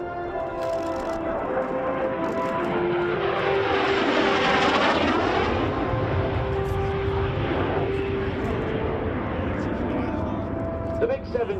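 A MiG-17 jet fighter flies a display at the 2017 Rhode Island air show. Its loud engine roar swells as it passes and then fades, with a public-address announcer talking over it.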